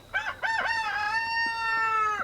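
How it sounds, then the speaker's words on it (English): A rooster crows once, close and loud, a long drawn-out cock-a-doodle-doo with no other sounds around it, recorded outdoors at a high-elevation garden. "That rooster doesn't shut up."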